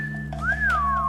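A person whistles a single clear tune that swoops up, then glides down and levels off, close to the microphone over a steady low background hum.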